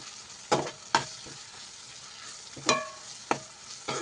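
Chili powder and Kashmiri chili powder masala being stirred in a pan: a few distinct scraping strokes of a utensil against the pan, close and fairly soft, with quiet frying between them and no talk.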